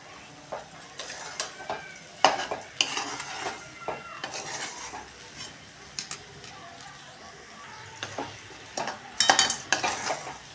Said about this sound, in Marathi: आता आपण एकसारखं हलवायचं आहे साखर जेणेकरून ह्या रव्यामध्ये पूर्ण विरघळी जाईल असं एकसारखं हलवून घ्या